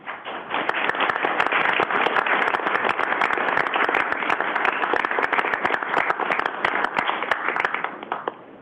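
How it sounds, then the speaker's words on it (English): City council meeting audience applauding, a sustained, even round of clapping with crisp individual claps standing out, holding steady for over eight seconds before tapering at the end. "if everyone could join me in giving them a huge round of applause"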